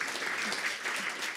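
Steady applause from a seminar audience on steel-industry climate standardisation, a dense even patter of many hands clapping throughout, fairly close and continuous with no pauses.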